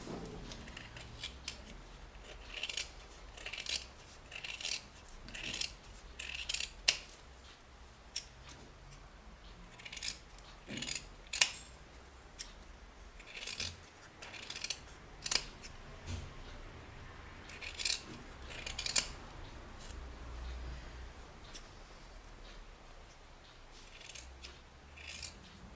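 Scissors snipping through felt pieces for a craft project, a close series of short crisp cuts arriving in uneven bursts with brief pauses between, fairly quiet, no talk.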